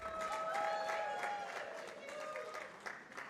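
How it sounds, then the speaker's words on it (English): Audience applause at a Kampala Impact Day 2023 event as a speaker is welcomed, a dense patter of clapping from a crowd mixed with voices and a tonal background, lasting a few seconds. "Let's put our hands together for Miss Lucy"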